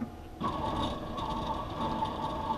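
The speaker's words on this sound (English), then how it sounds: "the other calipers are going to come down and it's going to trace the shape" A lens edger's calipers close in and trace the shape of a bifocal spectacle lens, a sudden mechanical whir starting and continuing as a steady, faint motor hum with light ticking.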